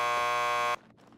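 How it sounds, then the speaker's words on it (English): A door buzzer in the Max Payne 2 video game sounds as a loud, steady electric buzz that holds for under a second and cuts off abruptly, leaving quiet room tone. "Just press the buzzer by the door."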